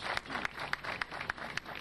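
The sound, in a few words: audience applause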